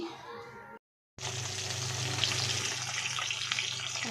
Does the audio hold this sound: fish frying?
yes